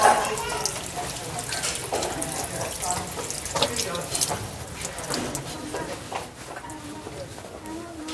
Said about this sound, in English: I am going to rinse this off just so that we don't have to be so obvious about sharing equipment between recipes.